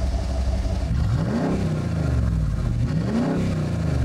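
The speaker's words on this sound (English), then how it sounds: "Rev it up a little bit." A 6.6L LML Duramax diesel in a 2011 GMC Sierra Denali revs with its exhaust cutout open, the deep engine note climbing and falling twice, loud and close, over a steady rumbling idle.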